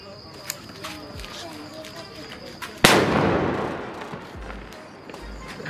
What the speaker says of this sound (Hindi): ये छोटा वाला सुतली बम है, ये इसके अंदर इजीली फिट हो जाएगा, तो मैं इसको जला के अंदर फेंक देता हूँ